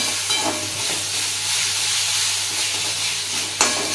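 Ginger-garlic paste sautéing in a pan as the base for a chicken gravy gives a steady, close, even sizzling hiss throughout, with one brief sharper crackle near the end and no voices.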